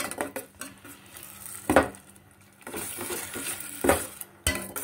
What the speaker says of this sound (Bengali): নুন আর চিনি দেওয়ার পরে গ্রেভিটা আরও ভালো করে মিশিয়ে নেব